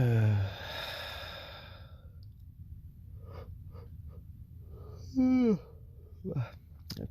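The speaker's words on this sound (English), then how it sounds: "Well, it feels good to yawn." A person yawns with a long, drawn-out breath that falls in pitch. Soft breathing follows, then a shorter voiced yawn-like sound and a brief vocal noise near the end, all close and quiet.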